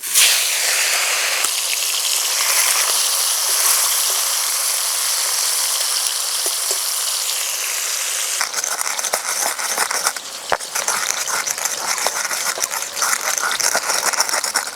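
Small mourala fish rubbed with salt and turmeric frying in smoking-hot mustard oil: a loud, continuous sizzling hiss that turns rougher and more crackly partway through as the frying intensifies.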